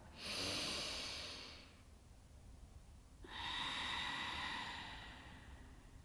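Two slow, deep breaths during a yoga flow, each a long airy inhale-exhale swell with a pause between, close and fairly quiet with no talking.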